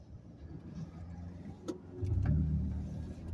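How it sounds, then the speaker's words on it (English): A big truck engine drones on a road, with a low rumble that swells and revs louder in the second half, heard from inside a passing vehicle over faint road noise. "Hey, my boy pushing that big truck."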